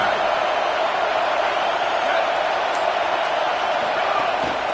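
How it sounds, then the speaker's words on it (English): A packed stadium crowd at a college football game between Texas and Utah roars steadily, a dense, sustained wall of cheering that fills the whole stretch without a break. "Listen to this crowd just shaking the girders of this place"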